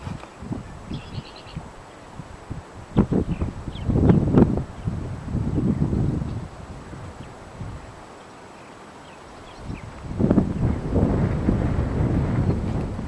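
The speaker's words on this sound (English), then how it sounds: "It's quite windy out today." Wind gusts buffet the microphone outdoors at Big Haynes Creek Nature Preserve, loud rumbling bursts rising and falling, with a calmer lull midway before another strong gust.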